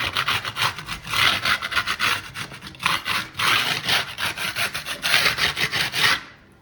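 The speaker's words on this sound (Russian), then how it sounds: "Надо с кельмой счистить просто их, чтобы не царапало руку. Вот так берем кельму и счищаем." A trowel scrapes sharp, dried edges off a decorative plaster ceiling in close, rhythmic rasping strokes that come in steady bursts, with no talking.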